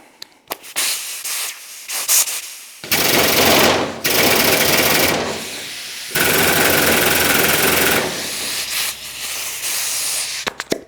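Vevor 32-ton air-powered bottle jack hissing loudly in long pneumatic bursts of a few seconds each, separated by short gaps with clicks and handling noise.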